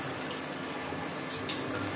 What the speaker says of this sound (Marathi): आता हे पाणी टाकते म्हणजे हे लोणी जे धुवून निघालं जाईल